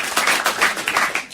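Close, lively clapping from a small audience, brisk overlapping hand claps in a steady burst that fades slightly at the end.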